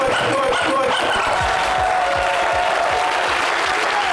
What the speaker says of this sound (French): applaudissez pour Alex d'abord